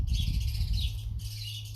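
Birds chirp outdoors in a steady, dense wash of high tweets with a low background rumble, briefly dropping out near the middle before resuming at a similar moderate level.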